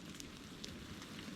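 Steady, soft patter of rain falling on a mountain near Las Vegas, a continuous hiss with a few faint drips, no voices.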